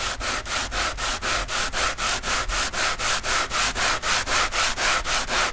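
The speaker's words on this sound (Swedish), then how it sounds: "För att kunna slipa linoljefärg använder jag primer och våtslipar." Wet sanding by hand over a primed linseed oil paint surface makes steady back-and-forth rubbing strokes, about three per second, close and even, with no talking.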